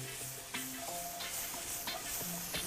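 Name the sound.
garlic sizzling as it is mixed in a pan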